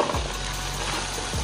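Flour-dredged chicken fries in a basket of hot grease with a constant, close, crackling sizzle over a low hum, and no one speaks.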